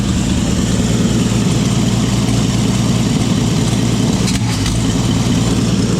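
A 1954 Chevrolet grain truck engine idles steadily up close, a deep continuous rumble with the puffing rasp of an exhaust leak, loud and unbroken throughout with no talk.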